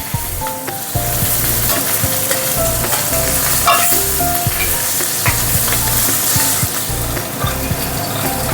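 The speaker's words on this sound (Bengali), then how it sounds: "মাছের মাথাগুলো এবার ভেজে নিই।" Hilsa fish heads frying in hot mustard oil, a loud steady sizzle with crackling pops and occasional stirring clatter throughout, no voices.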